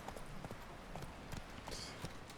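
Horse hooves running in The Witcher 3: Wild Hunt, a quick rhythmic clip-clop of repeated hoofbeats at a steady pace, fairly faint.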